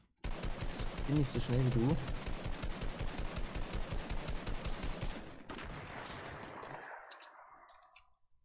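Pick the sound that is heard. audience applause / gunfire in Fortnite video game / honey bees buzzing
gunfire in Fortnite video game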